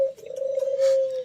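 A single pigeon gives one short, sustained coo, a steady low tone lasting just over a second. It is heard alone, close by, against quiet surroundings.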